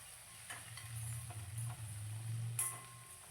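Okra and onions fry in a pan while being stirred, a steady low sizzle with soft scraping and occasional light clinks of the spoon, heard close and alone.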